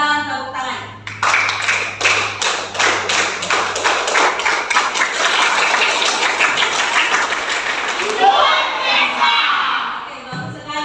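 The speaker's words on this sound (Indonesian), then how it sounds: "silakan tepuk tangan" A classroom of children claps along to the teacher's rhythm in quick, steady bursts of hand claps that speed up and swell into a busy clatter, with excited shouts and voices mixed in before the clapping fades out.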